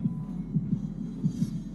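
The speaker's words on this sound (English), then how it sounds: "I can hear the heartbeat on her screen too" Dead by Daylight heartbeat warning, a low pulsing throb repeating steadily in paired beats over a quiet hum, ending with a brief bright burst.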